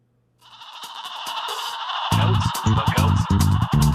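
A goat bleating sound effect over a busy music bed, the bleat loud and close, followed by thumping beats that grow louder.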